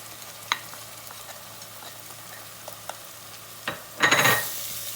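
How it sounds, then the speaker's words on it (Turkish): Soft sizzle of onions frying with tomato paste for a kidney bean and meat stew, punctuated by sparse spoon taps and scrapes, then a louder hissing surge as the paste is stirred in near the end. "Salçalarım da şöyle kokusu çıkıncaya kadar çeviriyorum birkaç dakika."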